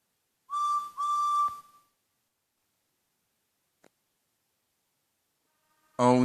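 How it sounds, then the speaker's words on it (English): A train engine's whistle sounds as two short, close blasts with a clear tone, followed by quiet and then a brief burst of another sound at the end. "Then the three engines heard a whistle."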